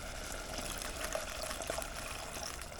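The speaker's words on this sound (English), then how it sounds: "now I'm gonna thin it out just a bit with water" Water poured steadily into a pot of thick mushroom barley soup, a soft, even splashing and trickling that lasts a few seconds with no talk.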